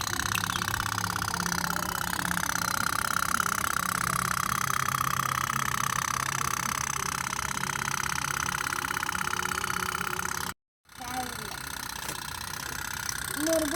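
A small motor hums steadily and buzzily throughout as a toy motor boat runs on a pond, close up and continuous, cutting out briefly near the end before resuming amid faint background sounds.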